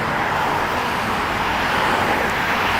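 Dense car traffic roars continuously beside the East River walkway in Manhattan in the early morning, a steady broadband wash of passing vehicles heard up close with no speech.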